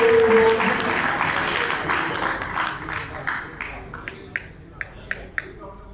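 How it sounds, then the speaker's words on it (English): A big round of applause breaks out for Bhanu at a Round Table India area event, a dense crowd clapping loudly at first, then thinning to a few scattered, sharp claps near the end. "can we have a big round of applause for Bhanu to come out?"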